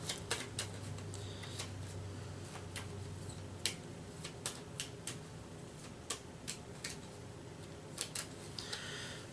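Sharp crisp riffling bursts of playing cards being shuffled, repeated clicks and flutters spaced across the clip, close and fairly quiet, with no talking.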